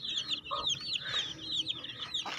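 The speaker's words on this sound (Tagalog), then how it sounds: "Yung katabi nito yung aking Rhode Island Black na nagpisa rin." A Rhode Island Black hen with newly hatched chicks clucks in short, repeated calls close by, over a busy background of high peeping chick chirps.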